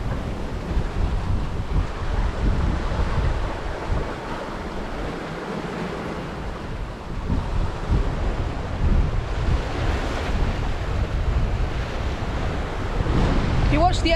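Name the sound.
strong wind and waves while sailing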